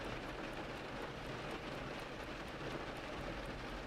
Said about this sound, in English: the rain seems to briefly up its tempo before resuming its steady rhythm.